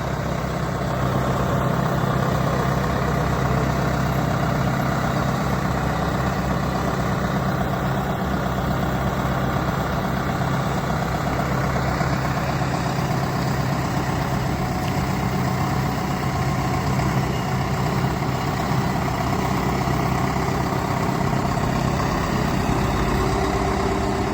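A small Solis 105 tractor engine idling steadily at close range, a constant low rumble that holds unchanged throughout.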